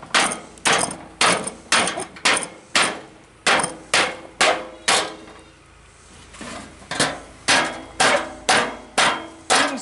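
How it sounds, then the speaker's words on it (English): Repeated sharp, heavy blows ring out in a steady rhythm, a rubber mallet pounding and flattening bent metal from an air conditioning unit up close, with a brief pause midway before the strikes resume. "Okay, so rubber mallet time, because rubber mallets do less."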